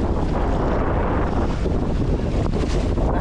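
Steady wind buffets the microphone while sea waves wash around a small fishing boat out at sea, a constant loud roar with no pauses.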